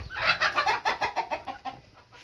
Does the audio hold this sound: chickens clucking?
yes